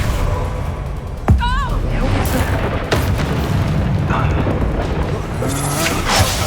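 A magical Expulso spell blasts off in a Hogwarts Legacy fight, one sharp booming explosion followed by a rumbling, crackling aftermath amid busy combat sounds and effects.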